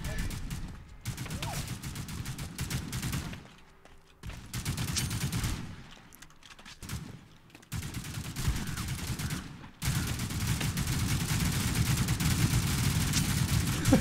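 Plastic Warfare gunfire crackles in rapid bursts and sustained volleys, fairly loud, with short lulls and a denser stretch toward the end, mixed with speech.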